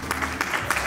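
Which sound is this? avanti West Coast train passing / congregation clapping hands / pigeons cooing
congregation clapping hands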